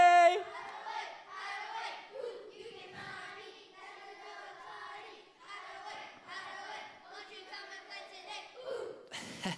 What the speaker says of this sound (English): That cheer never gets old